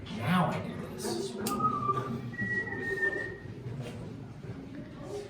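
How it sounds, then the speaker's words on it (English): Spooky whistling echoes inside a cave, a few thin wavering tones rising over soft background murmur. People talk quietly as it sounds. "That was kind of a spooky whistling."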